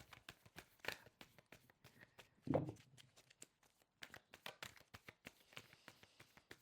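Tarot cards being shuffled during a weekly reading: a quick series of close, crisp riffling flicks and taps, with one louder thump midway and softer handling noises after it.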